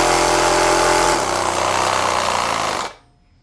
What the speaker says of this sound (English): now I'm gonna put it into my reciprocating saw